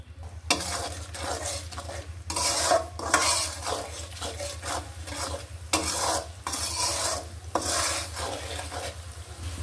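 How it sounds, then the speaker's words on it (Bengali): Spice paste for a boal fish curry is stirred and sautéed in oil in a pan, with repeated scraping strokes of a spoon against metal over a steady sizzle and a low mains hum. "মশলাটা আমি একটু ভালোভাবে কষিয়ে নিব।"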